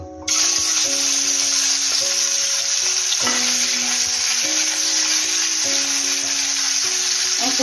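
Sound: prawns frying in hot mustard oil

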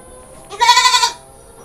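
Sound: Etawa goat bleating

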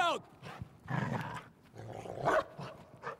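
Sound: dog barking in WWII Stalingrad sniper video game

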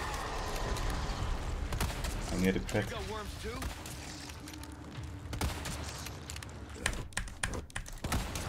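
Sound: computer keyboard typing

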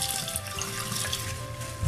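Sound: rinsing a calcium test vial with water

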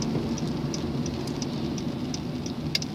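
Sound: rain falling outside

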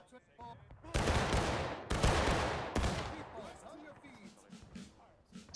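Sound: infantry company firing a volley of rifles

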